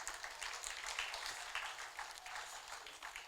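Audience applause welcoming a guest onto the stage at an AMUOBA gathering, a steady dense patter of many hands clapping, fairly faint and distant, with no voices over it.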